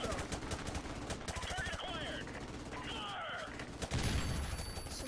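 Rapid automatic gunfire in a Call of Duty: Modern Warfare Remastered campaign battle, steady bursts of shots fairly close, with scattered voices underneath.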